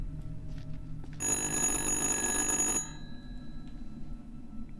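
A telephone rings in the horror video game Little Hope: one loud, steady electronic ring lasting under two seconds that starts and stops abruptly over low, murky background ambience.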